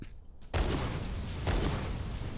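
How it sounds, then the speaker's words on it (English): A large explosion in the Trans-Siberian Railway Simulator video game erupts suddenly after a quiet moment, becoming a loud rumbling blast with a second surge of booming debris. "that's a massive explosion for such a small charge"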